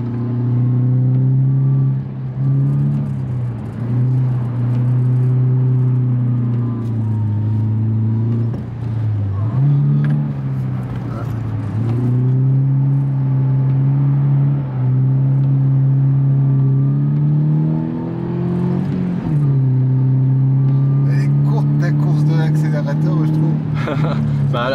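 A Subaru Impreza 2.0R engine drones and rises and falls in pitch as the car accelerates on snow, heard steadily from inside the car while people talk over it.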